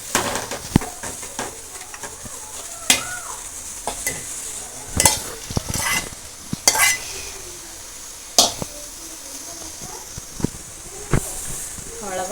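Fried okra is stirred into a buttermilk curry, giving bursts of wet sizzling and hissing along with scattered utensil scrapes and clinks in an uneven rhythm. No voices.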